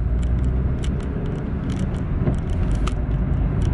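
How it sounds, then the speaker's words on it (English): A car on the road in Worcester, with a continuous low engine rumble and road noise from inside the vehicle, plus a few light rattles and clicks over the drone. "There's that car again."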